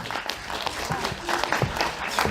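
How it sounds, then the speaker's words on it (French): Festival audience members in Paris applaud the organiser, a brisk, even spread of many hands clapping close by for a couple of seconds. "Applaudissements pour Marie Cipriani."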